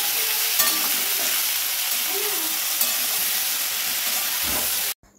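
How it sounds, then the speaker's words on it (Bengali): Potatoes fry with dry chilli and panch phoron as they are stirred, a loud steady sizzle and hiss with occasional scraping of the spoon, close, then cutting off abruptly at the end. "আলুগুলোও কিন্তু দিয়ে দিলাম। চলো ভালো করে নেড়ে নিই।"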